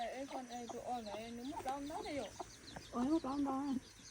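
Chickens cluck in a rural yard with ducks around, giving a close series of rhythmic, warbling clucks in two bursts. Some background noise and voices sit beneath them.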